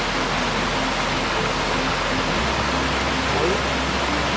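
The Las Toscas waterfalls at Sot de Chera: a dense, unbroken roar of falling water, loud and steady throughout, with no distinct voices.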